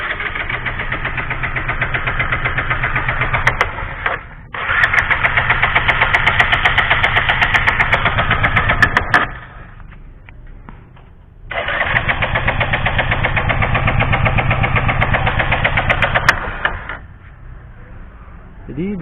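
A Bajaj Pulsar motorcycle engine with an ignition fault cranks and runs in two long stretches, a steady rough drone up close, cutting out between them with a quieter pause.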